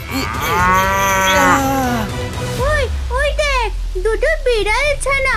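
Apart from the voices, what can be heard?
cow mooing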